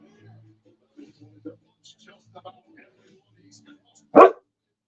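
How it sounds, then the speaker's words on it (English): A dog gives one sharp, loud bark close by after a stretch of quiet, broken speech from people nearby. "It's a dog."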